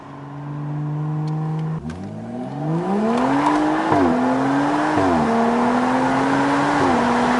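A BMW M235i engine revs up hard from idle, climbing through several gear changes with rising and dipping pitch, loud and close.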